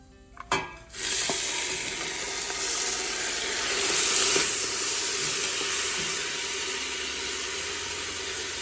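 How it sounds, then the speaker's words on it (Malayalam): Soaked, drained rice tumbles into a hot chicken dum biryani pot with a brief clatter, then a loud, steady sizzle and frying hiss rises and stays close, with no talk over it. "അതിനുശേഷം നമ്മൾ ഓൾറെഡി സോക്ക് ചെയ്ത് വെച്ച് ഡ്രെയിൻ ചെയ്ത് വെച്ചിരിക്കുന്ന റൈസ് ഞാനിതിലേക്ക് ആഡ് ചെയ്യുകയാണ്"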